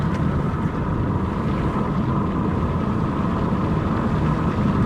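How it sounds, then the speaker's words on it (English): A Nissan Maxima engine held at high RPM as it fails to shift into third gear, a steady, droning hum with no clear change in pitch, heard alone without talk. "When you go and you manually try to put it into third, watch those RPMs."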